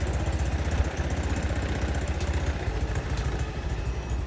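A motorcycle engine idles at a parking area by a harbor dock, a close, steady low rhythmic putter with light mechanical clatter, with no talking.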